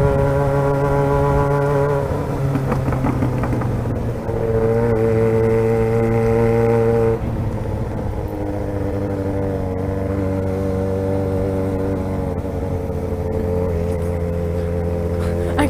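Loud, steady engine drone with sustained revving tones from motorcycles, including a Honda Hornet and a Yamaha XJ6, idling and revving nearby, pitch shifting a few times, continuous throughout.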